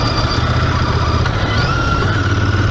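A vehicle engine drives along with steady low-pitched rumble and mid-range whine, pitch shifting gradually as it moves through a downshift, loud and continuous throughout.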